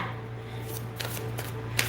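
A deck of tarot cards is shuffled briefly, producing soft riffling bursts over a steady low electrical hum.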